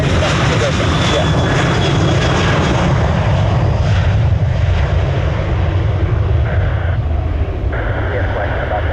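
An airliner's engines roar loudly and continuously at close range on the ground at Orlando International Airport, a broad sustained rumble that holds steady throughout.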